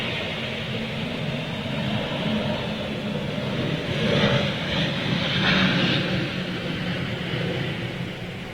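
An aircraft in old livery passes at Manchester Airport, a steady broadband engine rumble that builds slightly toward the middle and stays fairly distant, with no talking.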